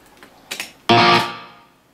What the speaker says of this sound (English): And you can hear the reverb going there.